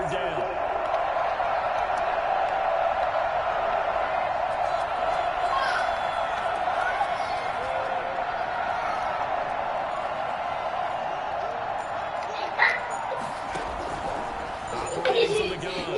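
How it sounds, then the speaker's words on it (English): A football stadium crowd roars in a sustained, distant wash of cheering during a game, swelling slightly near the end, with a broadcast commentator talking over it. "The crowd getting into it as we come up on a big 3rd down."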